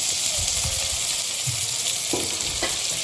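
Onion and tomato sautéing in a pan for a banana flower vegetable dish, a steady close sizzle with a few soft stirring scrapes and spoon taps, no talking.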